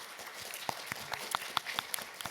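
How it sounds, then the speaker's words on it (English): Audience applause at a PAX East 2025 speedrunning panel: scattered, fairly soft claps from a crowd in a hall, some sharper single claps standing out, with no voice over them. "round of applause for my amazing speakers"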